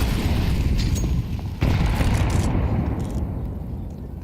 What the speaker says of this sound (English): CTR eats the nade to Banana yet again.